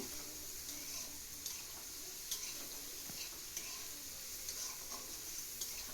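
Soybean-based vegetarian chow mein fries in a pan, a quiet, steady sizzle with soft scraping stirs and occasional light clicks of a utensil, no voices.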